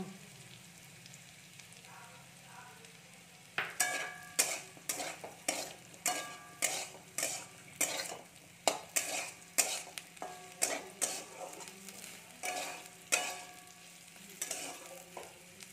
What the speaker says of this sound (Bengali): চলুন বন্ধুরা, আমরা আলুটাকে একটু লাল লাল করে ভেজে নিই